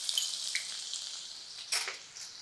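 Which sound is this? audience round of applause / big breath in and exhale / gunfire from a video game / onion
onion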